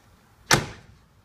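A car door on a 1969 Pontiac Firebird 400 convertible shuts with a single solid, close thud that fades over a fraction of a second against a quiet background.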